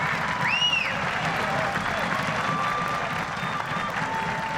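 Crowd at a 2015 USA Rugby D1A national championship match between Saint Mary's College and Life University applauds as an injured player leaves the pitch, steady broad clapping throughout with a whistle near the start.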